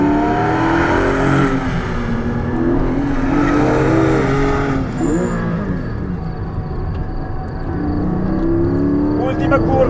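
Lotus Emira i4 sports car lapping a race circuit, its engine note loud and continuous with rising and falling harmonics through gear changes and corners, a voice talking over it throughout.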